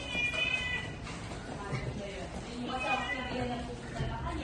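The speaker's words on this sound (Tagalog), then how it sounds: "Ito ang pusa ni Ma'am" A house cat meows a few times indoors in an apartment, close by, under steady overlapping talk from several people.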